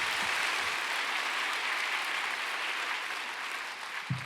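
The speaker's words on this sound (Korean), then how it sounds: "큰 박수로 환영하도록 하겠습니다" A church audience applauds in welcome as a pastor comes forward to preach, a steady, dense clapping that fills the room at even loudness, with a brief thump near the end.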